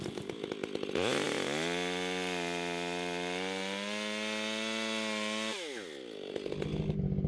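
A chainsaw roars close by as it limbs a felled tree, revving up, holding a steady high whine for several seconds, then dropping back to idle.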